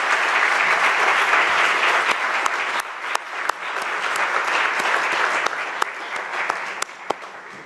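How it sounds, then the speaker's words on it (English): An audience gives a sustained round of applause, dense steady clapping with a few sharper individual claps standing out, continuing throughout without talk. "please give them a round of applause"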